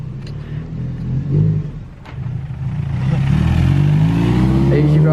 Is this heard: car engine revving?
yes